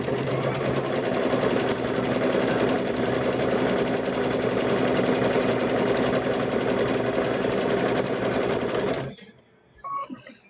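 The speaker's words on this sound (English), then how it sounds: "I'm going to sew up this side." A sewing machine runs in one continuous burst, stitching the side of a quilt block with a fast, even needle chatter, then stops abruptly near the end, leaving brief quiet and a faint handling noise.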